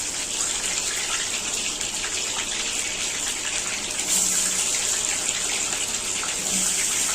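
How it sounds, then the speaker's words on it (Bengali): Potatoes frying in hot mustard oil for biryani give a steady, close, loud sizzle that holds evenly throughout with no talking. "আস্তে আস্তে আলুগুলো ভাজবো।"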